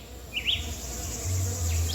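Small bees buzzing close by outdoors, a steady insect drone with a couple of brief higher whining passes as they fly near.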